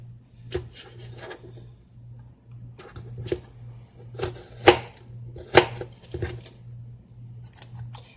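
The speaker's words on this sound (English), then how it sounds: "The knife works really well, Anne." Kitchen knife chopping fresh vegetables for salsa on a board: scattered sharp cuts, two louder ones near the middle, over a steady low hum, with no voices.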